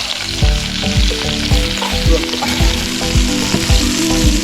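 Lamb knuckles browning in a hot cast-iron potjie pot for a South African stew, a loud steady sizzle and crackle of frying meat with repeated low thuds and scrapes of stirring, no voices.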